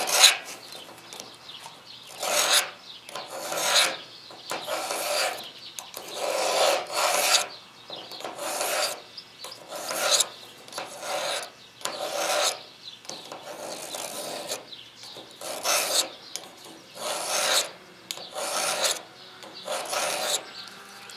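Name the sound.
knife blade being sharpened with a Lansky sharpener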